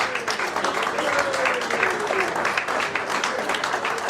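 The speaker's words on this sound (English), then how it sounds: "a round of applause, please" Steady applause from a live audience at an interview event as a guest walks in, continuous dense clapping with a faint voice or tone running underneath.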